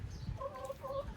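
Backyard chickens on a farm cluck in two short, tonal bursts, moderately close but fairly faint, with a low rumble of other activity underneath.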